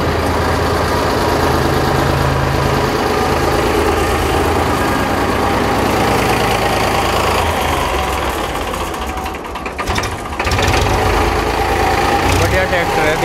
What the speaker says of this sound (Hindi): बढ़िया ट्रैक्टर है, दिखा रखा है पहले भी